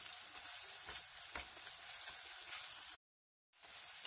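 Fried onions and a small ladle of tomato paste sizzling in a pan for a Turkish-style zucchini dish, a close, even hiss with faint stirring scrapes that cuts out briefly before resuming.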